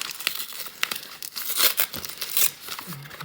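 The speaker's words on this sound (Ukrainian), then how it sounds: "Я так розумію, треба зняти цей скотч." Packing tape is peeled and torn off a wrapped package from a handmade advent calendar, giving close crinkling and ripping bursts with sharp tearing peaks, while a person's voice is heard at times.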